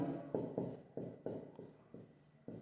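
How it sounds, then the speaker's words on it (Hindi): Chalk or marker writing on a board during a maths lesson, a series of eight or nine scratchy strokes in an uneven rhythm, close and moderately loud, with no voices. "मैं लिखता हूं"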